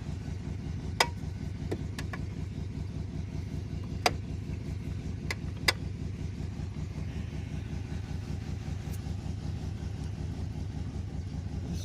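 A 1992 Chevy 4x4 pickup engine running rough while driving, a steady low uneven chug throughout with a few sharp clicks, no talking.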